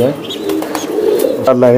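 Racing pigeons coo in low, rolling murmurs, close by, while a person talks over them.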